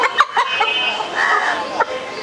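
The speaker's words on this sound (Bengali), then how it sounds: "টাইগার মুরগি এগুলো আপনার।" Tiger breed chickens about three and a half months old cluck and call close by in a steady series of short squawks, with a faint voice in the background.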